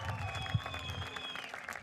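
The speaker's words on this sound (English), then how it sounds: "Big round of applause for him." Crowd applause for a truck race podium finisher at the Nürburgring, a faint, steady patter of clapping with a distant public-address voice and cheering mixed in.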